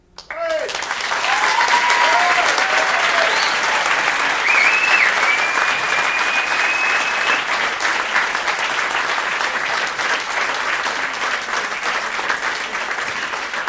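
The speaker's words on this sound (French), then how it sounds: "Et là, vous pouvez l'applaudir" A large audience bursts into loud, sustained applause at a talk, steady dense clapping holding for over ten seconds with a few faint whistles and whoops rising above it.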